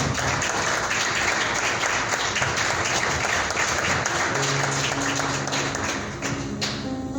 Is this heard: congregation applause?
yes